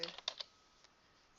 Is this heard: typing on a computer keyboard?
yes